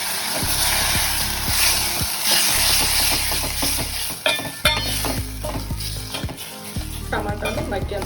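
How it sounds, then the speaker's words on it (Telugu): Turmeric being stirred into four chopped tomatoes frying in a pan, a steady loud sizzle with scraping utensil strokes against the pan and a few brief clinks, no voices. "దీంట్లో పసుపు 1/2 టీ స్పూన్ ఒకసారి కలుపుకుందాం. దీంట్లోనే కట్ చేసుకున్న 4 టమాటా"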